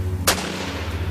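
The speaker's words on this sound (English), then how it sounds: "a flurry of panicked gunfire breaks out between the Marshals and the boys" A single sharp gunshot blast from a reenacted firefight between U.S. Marshals and locals at Ruby Ridge cracks loud and close over a steady low rumble, then fades into a sustained droning background.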